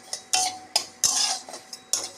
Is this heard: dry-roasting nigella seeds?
yes